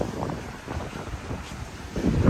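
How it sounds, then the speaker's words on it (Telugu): Sea waves wash in at a beach restaurant on a windy day. Heavy wind buffets the microphone, and the low rush of surf builds louder toward the end. "అలలు ఎక్కువ వస్తున్నాయి ఇక్కడ"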